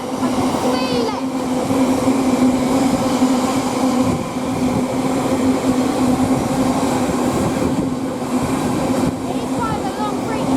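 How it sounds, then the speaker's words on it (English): A long GBRF Class 66 intermodal freight train rolls past close by at Rugby on the West Coast Main Line, with a loud continuous rumble, droning engine tone and clattering wagons, and faint squeals near the start and end. "It is quite a long freight train."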